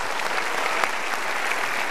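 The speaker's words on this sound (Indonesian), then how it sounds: "Kita berikan tepuk tangan dulu untuk dia." Studio audience applause in a televised motivational talk show, a dense steady wash of many hands clapping at once, loud and continuous with no talk over it.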